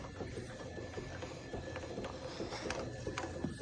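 A welded elevation mechanism on a French 75 mm model potato gun gives off faint, irregular mechanical clicks and ratcheting ticks as it raises the barrel, quiet and close with no talking.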